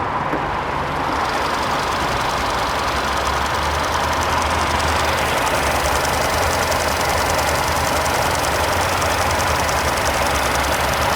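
The 1.6-liter turbocharged four-cylinder engine of a 2020 Hyundai Sonata Limited runs with a steady, even hum and broadband whir, heard close from under the open hood for the whole stretch.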